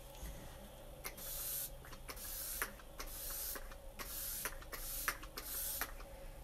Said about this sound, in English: we're gonna set our makeup with Touch Behold Translucent Setting Spray